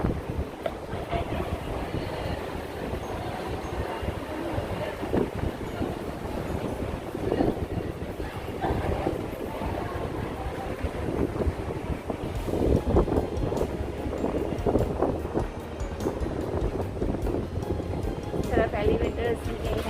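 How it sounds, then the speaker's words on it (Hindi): Steady outdoor wind rushing and buffeting against the microphone on a cloudy day, a continuous loud roar with gusty swells throughout. "अब देखिए सीज़न जो है, हवा भी चल रही है"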